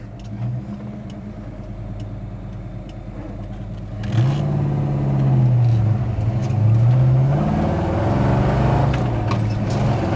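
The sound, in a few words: 1966 Pontiac GTO engine idling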